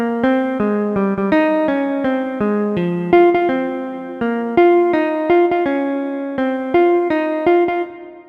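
Retrograde inversion of the Happy Birthday melody, played as a clean, plucked synth-like single line of crisp notes in a steady, evenly phrased rhythm, alone and close, with no voices.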